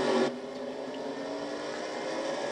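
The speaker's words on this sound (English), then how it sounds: "Somebody over-revving the motor through the second turn there, maybe missing a shift" Race car engine in an iRacing-style road course event, Castrol GTX Cup series, droning steadily at high revs through a turn, a sustained loud buzz with no voices.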